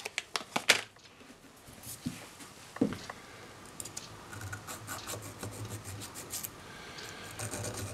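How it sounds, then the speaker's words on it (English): A needle file rasps at the blade of a Stanley 71 router plane in short, close strokes, with a few sharp clicks and knocks early on, then quieter, irregular scraping. "I'll do a little bit of filing on that too"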